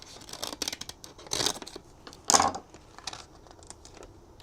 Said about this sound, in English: These scissors do not cut very well.